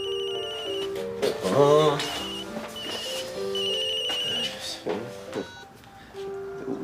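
A telephone rings indoors with repeated electronic trills, layered over background music and brief speech.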